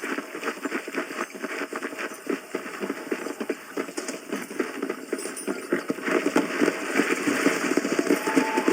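Horse hooves in Red Dead Redemption clip-clop at a steady gallop, a dense rhythmic drumming that stays loud and close throughout and grows slightly stronger toward the end.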